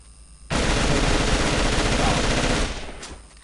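An assault rifle in the AVA video game empties a full magazine in one continuous, loud, close burst lasting about two seconds, then the firing stops abruptly.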